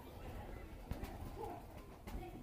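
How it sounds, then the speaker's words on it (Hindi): A Missay breeder pair of pigeons cooing softly in a low, murmuring rhythm, faint and close amid light background noise. "ये दोस्तों मिस्से कबूतर"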